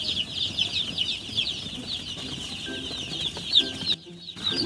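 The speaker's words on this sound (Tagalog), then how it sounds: "Hello mga darling, mga bago kong chicks. Yan po yung ating mga sisiw." Newly brooded chicks cheep shrilly and continuously from close by in a poultry brooder, with a dense overlapping chorus of high peeps and a brief pause near the end.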